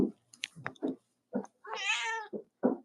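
A pet cat meows several times in short, close calls, including one longer drawn-out whining meow, in a quiet indoor room.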